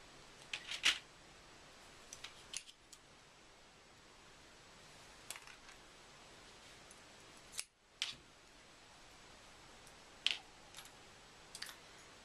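Scissors snip through thin silver craft wire for a beaded Christmas tree ornament, a few sharp, faint clicks spaced several seconds apart in a quiet room.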